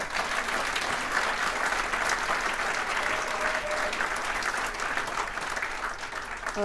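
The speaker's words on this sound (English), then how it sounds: "Give them a big round of applause" A crowd at a regional state-of-the-region event gives a big round of applause, a steady, even wash of clapping held at moderate level for the whole stretch without breaks.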